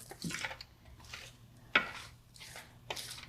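Food stirred and tossed in a pan: soft scraping and shuffling with a few sharp clinks of utensil against metal, light wet sizzle underneath, close and fairly quiet.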